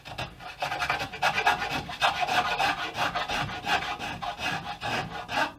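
Hand file rasping across a wooden guitar neck joint being carved, a close steady run of back-and-forth strokes in an even rhythm, each pass a gritty scrape, with no talking.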